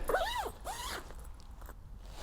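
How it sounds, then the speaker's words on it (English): The zip on a bivvy bag gives a couple of quick, close rasping pulls, the first sharper and the second softer, followed by faint rustling. "It's got nice zips."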